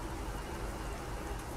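Steady rain patters on a truck in Euro Truck Simulator 2, a dense, even, close wash of drops with no pauses.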